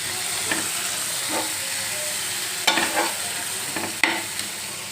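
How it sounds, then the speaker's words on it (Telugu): Indian gooseberry (amla) pieces fry in oil, a constant close sizzling hiss punctuated by a few sharp stirring scrapes and clicks against the pan, with nobody talking. "ఉసిరికాయ ముక్కలు వేసుకొని ఆ ఆయిల్లో కాసేపు మగ్గనివ్వాలి"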